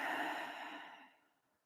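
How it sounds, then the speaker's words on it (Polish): A deep, slow exhalation like a long sigh, close and soft, fading gradually to silence over under two seconds. "Weź głęboki oddech."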